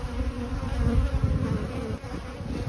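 Honey bees buzzing steadily around an open hive during a weekly swarm inspection, the frames drawn with pollen, eggs and nectar; a dense, close, continuous drone with no talk over it.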